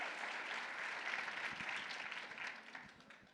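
A crowd claps for a solo cosplay competitor at a Japan-themed convention, a dense, steady wash of applause that gradually thins and fades toward the end.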